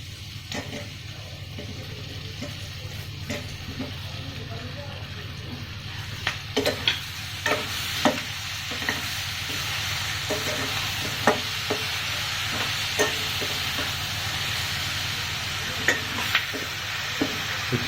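Tomato going into a hot kadai of paneer, a steady sizzle under repeated scraping stirs and spoon taps, close and moderately loud throughout, no voices.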